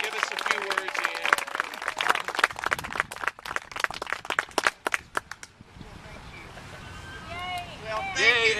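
A crowd at a Hiroshima commemoration gathering in Los Alamos, New Mexico, applauds a speaker with brisk, scattered clapping that fades after about five seconds, giving way to a speaking voice.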